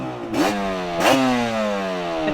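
A Yamaha TDR 250 two-stroke motorcycle revving hard while riding, two sharp rising throttle blips about a second apart over a buzzing, raspy engine drone with wind noise, loud and close.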